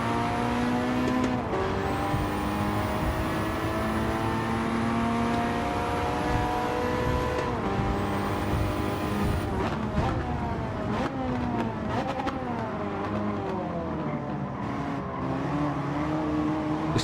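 A Ford Focus RS 18 races at the Tokyo circuit in Gran Turismo 7, its engine droning loudly and steadily, with pitch rising and falling through gear changes and rival cars passing close by.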